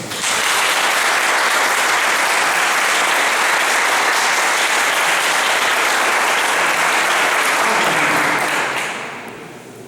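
Loud, dense applause from a large church congregation fills the air at a steady level, then begins to fade toward the end.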